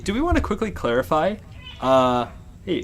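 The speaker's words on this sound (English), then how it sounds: "that's my cat." A pet cat meows several times in drawn-out, wavering cries, loud and close, alternating with people talking nearby.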